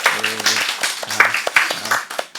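A church congregation claps during a Sunday service, a burst of hand claps in a few uneven waves under a pastor's speech.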